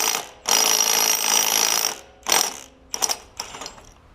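An impact wrench loosens the flywheel nut on a 5 hp Briggs engine from a Snapper tiller: one long loud hammering burst, then several shorter rattling bursts close up, with no talk.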